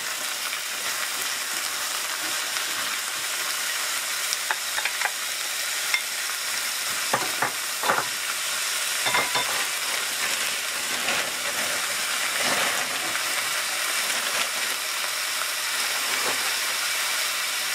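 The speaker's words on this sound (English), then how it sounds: "I'm gonna go ahead and add my green beans. Just mix this well." Green beans and beef tips stir-fried in a hot pan hiss loudly and continuously, with scattered spatula scrapes and clinks breaking through the sizzle, close up and without speech.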